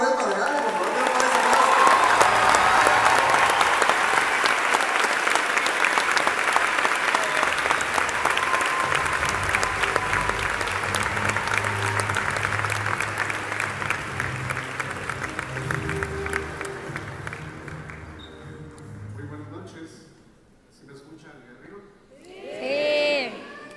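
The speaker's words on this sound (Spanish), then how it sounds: "Fuerte el aplauso" Enthusiastic audience applause at a peace medal ceremony honoring a singer, loud sustained clapping with some cheering and whoops from a large crowd, fading gradually after about fifteen seconds, with a voice speaking briefly at the end.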